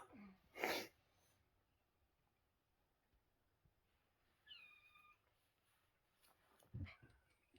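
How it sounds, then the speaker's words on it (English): A kitten gives a faint meow partway through, with soft sneezes or snorts and breathing sounds around it in a quiet indoor room. "it's meows because we've got a kitten there"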